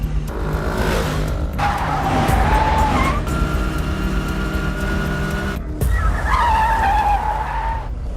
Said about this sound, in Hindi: भाई वो स्कूटर से भाग रहा है।